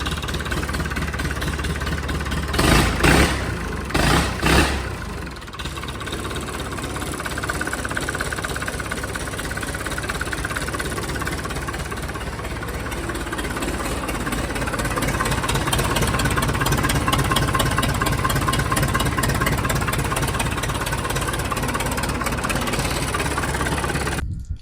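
A farm tractor engine runs steadily after hauling a plough home from the field, a loud close idle with deep rumble and knocking vibration, a few sharp clunks near the start, then a constant drone rising slightly toward the end.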